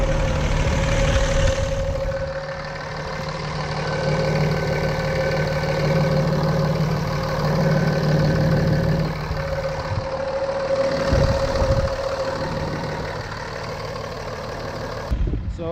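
A Cummins 5.9-litre diesel engine idles in a truck, a loud, steady low rumble with a constant hum that barely shifts, with a brief rattle near the end.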